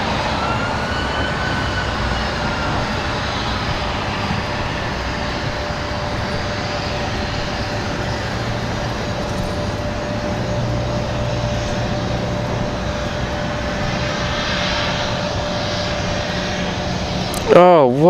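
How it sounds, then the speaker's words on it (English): A business jet lands at Washington Dulles with a steady, sustained engine roar and a long whining tone, holding at an even loudness throughout, then ending in a brief louder burst. "Oh, what a smooth touchdown."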